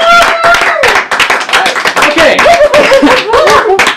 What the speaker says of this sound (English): So I guess you guys want to give a round of applause for Letterman,